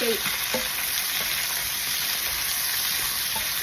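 Squid frying with browned garlic in a hot pan for squid adobo, a constant bright sizzle with a few soft stirring knocks near the start, steady and close throughout without speech.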